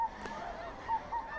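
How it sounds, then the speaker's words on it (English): Snow geese honking during a November hunt: several clear, nasal calls at moderate distance, a couple of distinct honks repeating over a steady outdoor background with no talk. "One thing about snow geese, they work forever."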